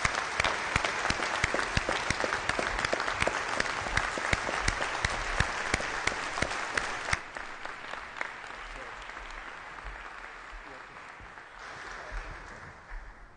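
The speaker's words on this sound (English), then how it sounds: "please join me in another round of applause for both of them" A commencement ceremony audience breaks into sustained applause, loud dense clapping for about seven seconds that then thins into scattered claps and a fading room murmur.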